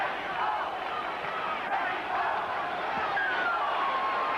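Boxing arena crowd murmuring and stirring at a Whitaker versus Chavez fight, a broad steady roar with faint shouts and occasional whistles, fairly distant and continuous.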